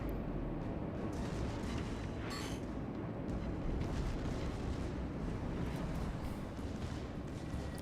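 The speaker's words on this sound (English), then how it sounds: "All of my shells will miss from the main guns." Heavy warship main guns in World of Warships: Legends boom and rumble continuously, a dense, low explosive wall of sound with one sharper burst standing out partway through.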